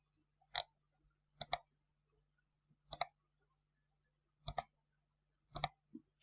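Computer mouse clicking to select a picture in a Word document: five crisp, close double clicks spaced about a second apart against a quiet background.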